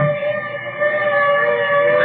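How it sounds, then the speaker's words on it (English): A fire engine siren wails in a steady, sustained tone from an old radio drama, loud and continuous with a slight waver, no voices over it. "Mr. Deeds, Listen. A fire engine."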